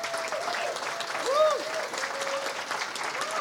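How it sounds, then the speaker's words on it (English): Audience applause for award finalists at a Boston civic impact awards ceremony, a steady wash of clapping from a sizable crowd in a hall, with a faint whistle-like tone rising briefly midway. "We want to give all the finalists a round of applause."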